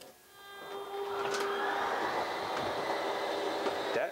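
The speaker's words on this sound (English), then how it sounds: "we're going to hold that button until we hear the motor shut off" A 2015 Winnebago Minnie travel trailer's slide-out room motor whirs up and runs steadily with a grinding, droning hum and faint high whine, close by, without speech.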